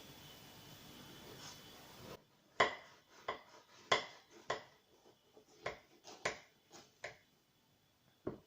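A knife cuts through a banana cake, producing a series of sharp, irregular clinks and taps of metal against a plate, fairly close and with quiet gaps between them.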